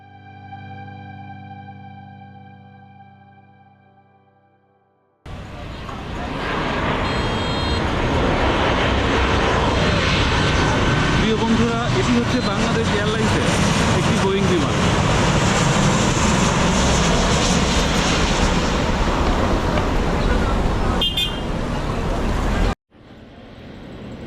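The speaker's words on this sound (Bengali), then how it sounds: "এটি হচ্ছে বিমান বাংলাদেশ এয়ারলাইন্সের বোয়িং ট্রিপল সেভেন সিরিজের একটি বিমান যেটি রানওয়েতে অপেক্ষা করছে উড্ডয়নের জন্য" A Biman Bangladesh Airlines Boeing 777 waits on the runway at Dhaka Airport, its engines giving a loud, steady broadband roar for most of the stretch before cutting off abruptly, with a brief quieter passage at the start.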